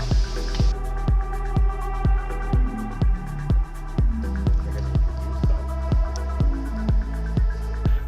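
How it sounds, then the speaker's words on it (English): Water pours and splashes in a steady stream through an MSR Guardian filter into jerry cans, with a regular series of close, hollow glugging pulses running throughout. "then refill the jerry cans and the water tank through it"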